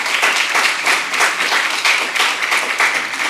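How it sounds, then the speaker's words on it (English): A room applauds outgoing board officers at a school district board of trustees meeting: close, energetic clapping from a modest crowd, steady and continuous with rhythmic swells throughout. "Let's give a final round of applause to all three of our outgoing board officers."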